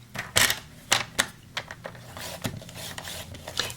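A tool scores a line into cardstock for a slimline card, giving a quick series of dry scratchy strokes and taps. The sounds are quiet and close with short gaps between them.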